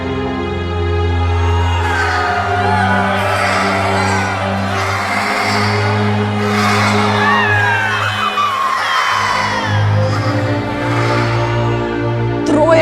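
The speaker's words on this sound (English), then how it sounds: "3 children are screaming in dying agony from terrible pain." Several young children scream in agony in a film scene where three small children are on fire. The wailing is loud, continuous and overlapping for the whole stretch, over a sustained low droning tone.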